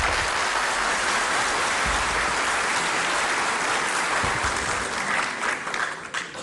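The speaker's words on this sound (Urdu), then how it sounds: "وقفہ میں نے تالیوں کے لیے دیا تھا" Dense audience applause at a public address by a caretaker prime minister, a steady rain-like roar of many hands that thins slightly at the end.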